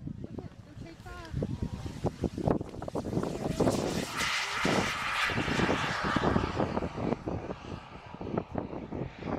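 A Corsair fighter plane's engine roars during takeoff at an air show, a loud, swelling propeller drone with crowd noise and voices talking over it.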